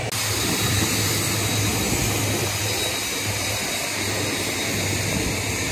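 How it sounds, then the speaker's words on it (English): Steady, loud engine drone of a small passenger plane on the tarmac at Fort Lauderdale before takeoff for Freeport, Bahamas, heard from inside the cabin, a continuous hum with a low tonal rumble and no talking. "We are on the small plane from Fort Lauderdale to Freeport, Bahamas, getting ready for takeoff."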